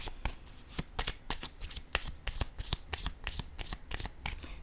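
Playing cards shuffled for a card reading: a rapid run of crisp, snappy riffles and flicks, close and fairly quiet, repeating steadily with no talking over them.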